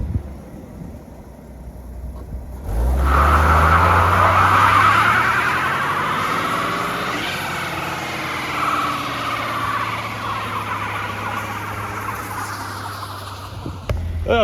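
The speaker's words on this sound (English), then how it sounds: "I am not sure why that belt is squealing at us, but it's pretty angry right now" A 1980 Ford F100 engine, just revived after 29 years, roars up with a loud, whining belt squeal riding over the rumble, holding steady and close for several seconds before easing off.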